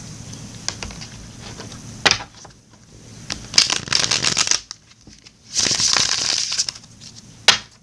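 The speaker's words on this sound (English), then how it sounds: "let me cut this deck for you" A tarot card deck being shuffled and cut at close range, bursts of riffling and flapping cards separated by quiet gaps, with sharp snaps at the starts and ends of the shuffles.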